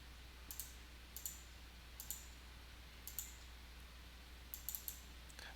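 A computer mouse clicking during work in Onshape CAD software: faint, quick clicks that come singly and in pairs every second or so over a low steady hum, with no voices.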